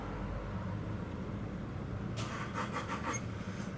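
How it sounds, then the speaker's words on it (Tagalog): A car engine cranks and catches about halfway through, with a short burst of starter and ignition noise over a steady background hum. It happens right after a check-engine fault has been cleared with a diagnostic scan tool. "ngayon try na nating start yung ating makina"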